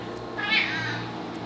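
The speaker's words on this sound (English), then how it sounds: "A hungry kitty." A hungry cat on a Hamakua homestead gives a single clear meow, rising and falling, close to the listener over a low steady background hum.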